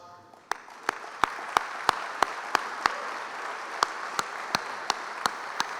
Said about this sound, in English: Can y'all stand up so we can give you a big round of applause?